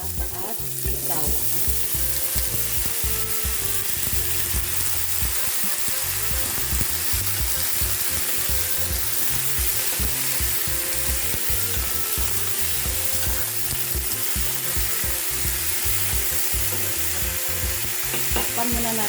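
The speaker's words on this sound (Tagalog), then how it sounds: "igigisa natin yung bawang, sibuyas, yung ating kalabasa at sitaw." Garlic, onion, squash and string beans sauté in a hot pan, a loud, close, continuous sizzle with scraping stirs throughout, and no one speaking.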